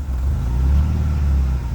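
A high-mileage RV engine idles steadily up close, a low, even rumble holding at a constant level throughout with no voices over it.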